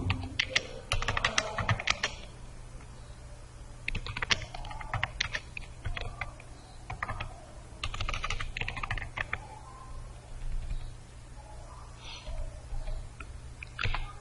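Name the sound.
typing on a computer keyboard while writing code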